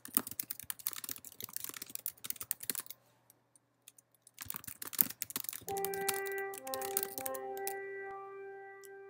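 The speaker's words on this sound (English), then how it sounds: "you want to type a name that works well for you" Computer keyboard typing while entering a task list name in the Asana app: two runs of quick, close, crisp key clicks separated by a short pause, followed by a few soft electronic tones.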